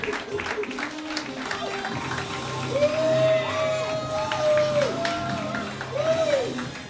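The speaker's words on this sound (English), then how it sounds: "Clap for him." Roast battle audience in Denver cheers and claps for a comedian, with whoops and shouts over the crowd while a voice talks on top, and a tonal sound effect rises and falls through the noise.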